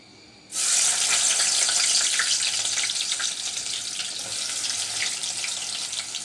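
A large onion sizzles in hot oil with garlic in a cooking pot, a loud bright crackling hiss that bursts in suddenly and then fries steadily with fine popping throughout.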